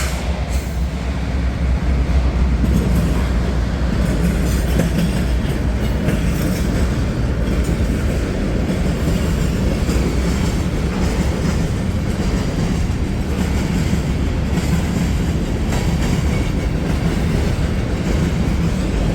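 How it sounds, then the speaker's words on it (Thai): A long freight train in the United States rumbles steadily past at close range, heavy low roar with faint wheel clatter continuing throughout without a break. "รถไฟในอเมริกาจะยาวมากนะ แต่ไม่รู้ว่าขบวนนี้ยาวหรือเปล่า"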